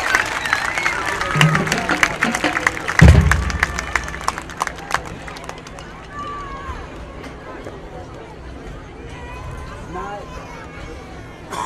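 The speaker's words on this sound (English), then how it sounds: "Give them a big round of applause." A high school football crowd in Bacon County applauds recreation-league teams and cheerleaders, with a dense wash of clapping and cheering that swells early, peaks around three seconds, then slowly thins while a voice talks over the dying applause.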